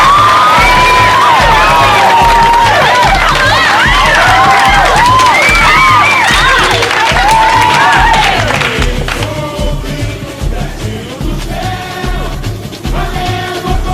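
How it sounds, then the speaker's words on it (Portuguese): A carnival crowd at a samba school parade cheers and screams for a float, with loud, excited voices and whoops over a pounding drum beat and singing, the roar easing slightly near the end. "E com muitos gritinhos."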